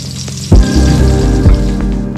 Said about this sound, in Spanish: Las setas hay que hacerlas a medio fuego entre 3 a 5 minutos